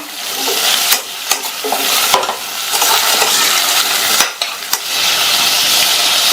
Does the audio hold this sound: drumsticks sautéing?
yes